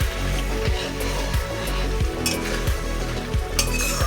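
Egg curry sizzling steadily in a pan as garam masala goes in, a continuous loud frying hiss with a spoon scraping and stirring in a regular rhythm.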